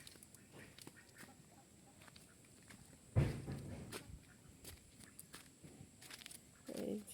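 Ducks at a village pond give faint, scattered quacks at a distance, with soft footsteps along the bank and a louder rustle now and then.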